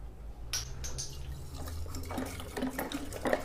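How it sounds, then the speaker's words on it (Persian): Pomegranate juice poured over ice into a glass for a mixed drink, a soft liquid trickle and splash running steadily for a few seconds alongside faint clinks, close and fairly quiet. "آب نار."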